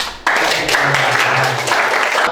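Classroom applause during an Islamic history lesson, a sudden onset of steady clapping from a group that holds for about two seconds, close and fairly loud.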